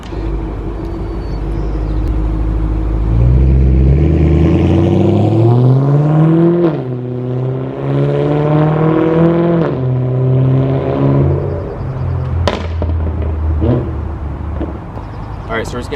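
BMW M3 with emptied stock catalytic converters and exhaust valves open, revved hard in several rising, falling sweeps, the loud raspy note rising and dropping repeatedly before a sharp blip near the end.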